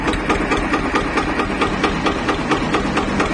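An Eicher tractor, a 2011 model in original paint, idles after a self-start, its diesel engine giving a steady close-up chug with rhythmic knocking pulses and no talk over it.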